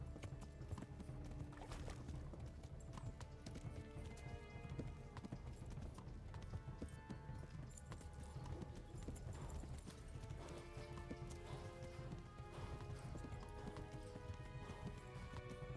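Rapid galloping hooves pound steadily throughout, with a brief horse whinny, in the video game Kingdom Come: Deliverance.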